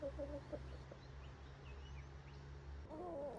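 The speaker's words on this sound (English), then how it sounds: "What are these chickens doing?" Chickens and a rooster on a farm, with soft clucking and short calls at the start and again near the end over a steady low hum in between, fairly quiet and without talk.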